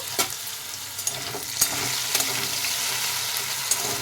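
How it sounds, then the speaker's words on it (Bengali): Potatoes with pea pods frying in an open pan give a steady, even sizzle with a few light clicks of a utensil, close and fairly quiet, no talking. "আলুটা একটু ভালো করে ভাজা হয়ে যাবে"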